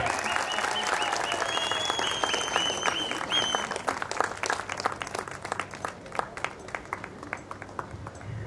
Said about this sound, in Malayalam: എവിടെ കയ്യടിയുടെ?